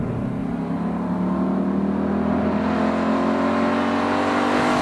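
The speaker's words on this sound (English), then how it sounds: "it's just going to be 10 minutes of engine noise" Ford Mustang Boss 302 V8 engine droning loud and steady from inside the car, a continuous throaty hum that climbs slowly in pitch as it revs, with no talking.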